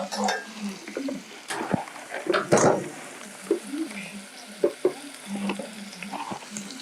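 Liver fries in a pan in a home kitchen, giving a soft sizzle broken by scraping and clinking as a utensil stirs it against the metal. Voices talk intermittently over the cooking.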